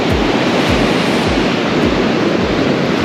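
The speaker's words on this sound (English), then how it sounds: "I cannot explain to you how big these waves are" Big surf pounds Pambula Beach, a surf beach on the Sapphire Coast, in a loud constant roar of breaking waves mixed with heavy wind buffeting on the microphone, with low thumps repeating through it.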